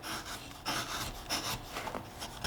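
A 3/4 inch gouge carving a wooden Christmas horse ornament, close scraping and shaving strokes in short uneven bursts, fairly quiet and alone.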